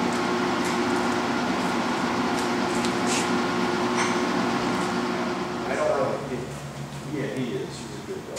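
A 30-by-160-inch Mazak (Yamazaki) engine lathe running at 105 RPM with the lead screw engaged for threading, giving a steady mechanical hum and whir, with someone talking over it.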